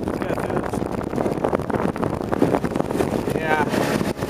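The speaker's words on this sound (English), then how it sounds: "Hopefully y'all can tell. Wind." Strong wind buffets the microphone aboard a bass boat speeding across a lake on a cold day, a loud continuous roar with engine and water noise beneath, while someone talks over it.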